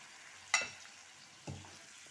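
Water splashes into a hot pan of pumpkin pasta and vegetables, giving two short bursts of sizzle about a second apart that quickly fade against a quiet background.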